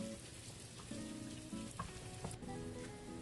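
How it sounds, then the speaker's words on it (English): Garlic sautés in a pan with a faint, continuous sizzle and bubbling, interrupted by a few soft stirring clicks and scrapes. "We then saute the garlic first. We stir it until it gets brown."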